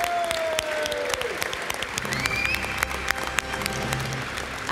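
An audience at an awards presentation claps for the Peugeot team, a sustained wash of applause with a few sharper individual claps and faint whistles, fairly close and continuous.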